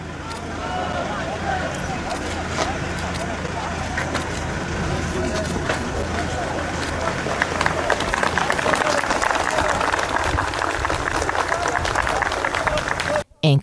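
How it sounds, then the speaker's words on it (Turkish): Citizens applaud rescue teams at earthquake rubble in İçel, steady clapping and crowd noise filling the whole stretch, with traffic and voices mixed into a dense, busy outdoor wash. "Enkaz altındakileri sağ olarak kurtaran ekipler vatandaşların alkışlarıyla karşılandı."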